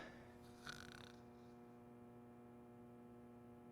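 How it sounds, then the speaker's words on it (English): Snoring from a sleeping character in the video game Deadly Premonition, a single breathy snore swelling briefly over a steady electrical hum, then fading into the low drone. "Was he snoring?"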